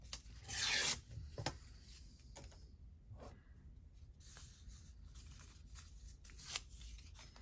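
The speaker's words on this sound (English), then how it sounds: "I don't like the curvy bit, so we'll just tear that off." Paper strip torn by hand during a craft session: one short, sharp ripping burst near the start, followed by faint scattered rustles and rubs of paper, quiet and close.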